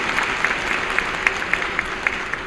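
An audience claps for Madhya Pradesh's chief minister Shivraj at a government event, steady applause with sharp individual claps standing out across the whole stretch, moderately loud and with no speech over it.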